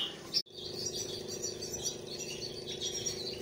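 Spinus finches in an aviary give high, thin chirps and tweets over a steady fan hum, with one sharp thump partway through.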